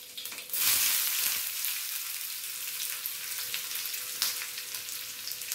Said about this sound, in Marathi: कांदा थोडा परतून झाला